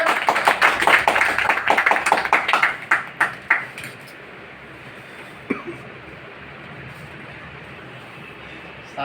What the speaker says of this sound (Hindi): ताली चाहिए